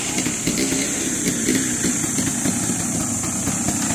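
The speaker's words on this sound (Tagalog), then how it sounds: "Ayan, mga motor malalakas." Loud motorcycle engines on a mountain state trail, revving and droning steadily close by with a continuous buzzing roar and slight surges, alone without talk.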